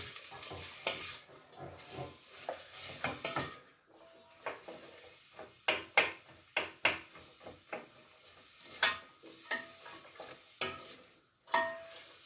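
A wooden spoon stirs onions and food around a pan, making a run of uneven scraping and knocking strokes over a faint sizzle, close and fairly loud, with short pauses between bursts.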